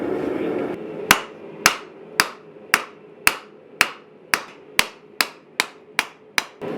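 Twelve sharp, ringing hammer blows come at an even pace, loud and close, as 5160 steel is forged for a knife at a vise, each strike decaying briefly before the next.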